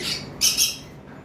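A high-mutation lovebird lets out two sharp, shrill squawks in quick succession, close and loud, against a quiet background.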